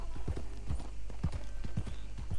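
Horse hooves clip-clop at a steady walking pace in Red Dead Redemption 2 on a ride around the Saint Denis plantations, several close, distinct hoof strikes over a low background hum.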